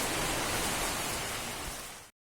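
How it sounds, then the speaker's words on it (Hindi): Heavy rain falling outside a house, a steady hiss of dense rainfall throughout, cutting off abruptly near the end; no speech. "बहुत तेज बारिश आ रही है सच।"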